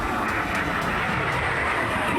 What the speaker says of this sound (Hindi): मिराज, राफेल और जगुआर जैसे लड़ाकू विमानों ने लैंडिंग और टेक ऑफ किया।